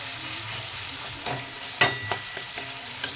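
Boiled potato stirred with tomato in a frying pan for a radish-greens chorchori, a steady soft sizzle under a few scraping spoon strokes, close and fairly quiet with no voices.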